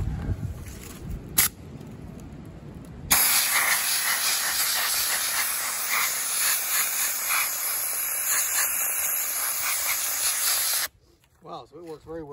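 A Harbor Freight blaster shoots baking soda against cast iron, a loud, continuous close hiss that starts abruptly after a brief quieter stretch and cuts off near the end, followed by a few faint sounds.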